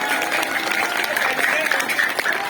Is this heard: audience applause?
yes